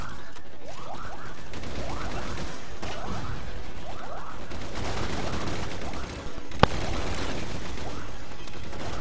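Rocket launcher fire and continuous gunfire in a Star Wars Battlefront 2 team deathmatch, loud and dense with repeated blasts and whooshes throughout, one sharp crack standing out near the end.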